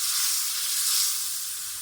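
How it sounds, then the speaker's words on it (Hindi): Keema sautés in a pan with ginger, garlic and a cup of yogurt, giving off a steady, bright sizzle. The hiss is close and constant, with no voices. "अब हम इसे बहुत ही अच्छी तरीके से भून लेंगे"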